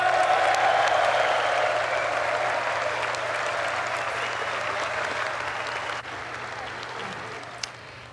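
A packed chamber of Congress applauds as the President is introduced for the State of the Union address, with dense, steady clapping and crowd noise that slowly fades. Cheering rises briefly at the start.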